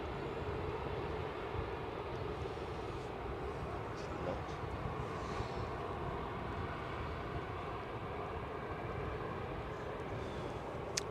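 An airliner arriving on runway 18R, the Polderbaan at Amsterdam Schiphol, gives a steady, broad engine roar that holds at an even level throughout, distant and continuous with no talk over it.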